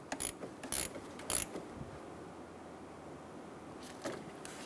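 A ratchet snugs down the negative battery cable bolt on a 1988-1999 GMC K1500, giving three quick clicking strokes close up, a pause, then one more brief click.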